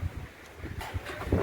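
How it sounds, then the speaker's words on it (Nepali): Strong wind blows across an open hilltop, a steady rushing roar with gusts that buffet the microphone for a short, close stretch. "हेर्नु हावा चलेर एकदम धेरै"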